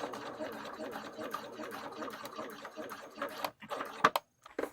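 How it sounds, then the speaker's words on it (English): Sewing machine running steadily while stitching a 3/8-inch straight seam down the edge of a fabric pouch, a continuous close mechanical whir that stops near the end, leaving brief quiet with a few small clicks. "now I'm going to be sewing straight down this edge at 3/8 of an inch"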